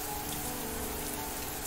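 Steady rainfall in the video game Mamiya, a dense continuous patter filling the background evenly with no pauses or voices.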